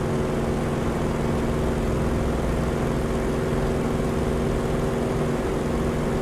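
An FG-1D Corsair propeller plane's engine drones loudly and steadily during takeoff in a flight simulator game, a constant low propeller hum with no pauses.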